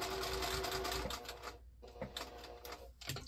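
A sewing machine stitches a pumpkin potholder quilt along curves, running in a steady close whir, stopping briefly to pivot, then starting again in short bursts.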